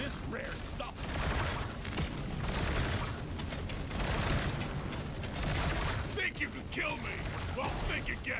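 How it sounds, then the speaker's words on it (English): Rapid coil gun fire from the game Deep Rock Galactic: Survivor, a dense stream of metallic mechanical bursts and clacks repeating in quick succession, with crisp ratcheting snaps near the end. "Coil gun going crazy"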